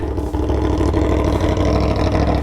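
Aprilia Tuono V4 1100 Factory motorcycle fitted with a GP22 exhaust, its engine running loud and close with a steady, dense rumble and a slight dip early before holding constant throughout.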